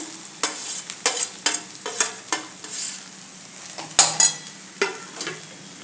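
Grated potatoes are sautéed in a pan with a little oil and green paste over a low flame for aloo paratha, giving a soft, steady sizzle broken by a dozen sharp scrapes and knocks of a spoon stirring against the pan.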